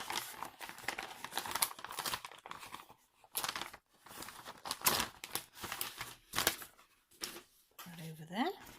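The paper cover of a World of Cross Stitching magazine is pulled off and crumpled up close, giving irregular crinkling and tearing bursts with short pauses between them, under intermittent talk.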